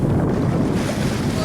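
Motors of nearby boats heard from a sailboat make a steady low rumble, blended with wind and water noise, continuous and fairly loud.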